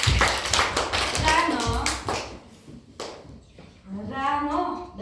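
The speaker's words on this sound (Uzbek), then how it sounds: "Olqishlaymiz." Children clapping together in a classroom, a burst of applause under a teacher's voice, with scattered claps continuing as she goes on speaking.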